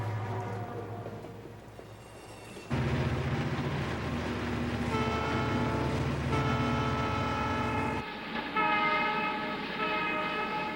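Five Southern Pacific diesel locomotives haul a heavy freight up a 7,000-foot Sierra Nevada pass toward Donner, engines droning loud and steady with sustained multi-tone horn blasts layered over the rumble, no voices.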